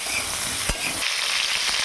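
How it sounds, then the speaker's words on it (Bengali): Cauliflower and potato pieces fry lightly with turmeric and salt for a dry khichdi, giving a continuous close sizzle broken by one sharp utensil knock midway. "হালকাভাবে ভেজে নেবো"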